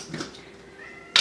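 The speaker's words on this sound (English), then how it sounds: "Sorry, that was my cat." House cat meowing indoors in a kitchen, one drawn-out, fairly quiet wavering cry followed by a sharp, brief louder noise at the very end.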